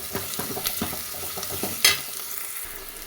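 Onions and green chillies sauté in a pan, with a soft background sizzle broken by several distinct scraping stirs and one sharper clink, close and fairly quiet with no talking.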